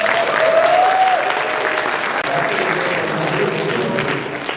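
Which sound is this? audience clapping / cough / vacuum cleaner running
audience clapping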